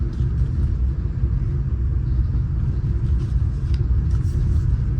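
VIA Rail's the Canadian, pulled by two GM F40PH-2 diesel locomotives, rolls into Sudbury Junction, Ontario, on a minus-19°F day, a steady, loud low rumble that holds evenly throughout with no voices.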